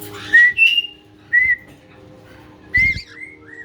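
A pet bird whistles nearby in a few clear, bright notes, some sliding up or down, separated by short pauses, with no talking over them.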